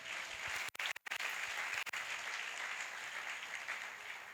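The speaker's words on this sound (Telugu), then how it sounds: "చప్పట్లు కొట్టండి." A congregation at a Sunday church service claps together in a sustained, moderately distant round of applause, broken briefly by a couple of short gaps, with no speech over it.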